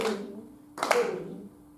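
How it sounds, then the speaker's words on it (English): Hands clapping a rhythm in a music lesson, two close, crisp claps spaced under a second apart, each with a short ring-off, no talking. "Let's just clap that one."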